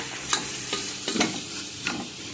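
Washed dal frying in a pan with a steady sizzle, broken by a few sharp stirring scrapes spaced across a short stretch, close and moderately loud with no talk.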